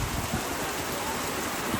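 Heavy rain pours down steadily at an outdoor birthday party, a loud unbroken hiss of water with faint low thumps beneath it and no clear speech.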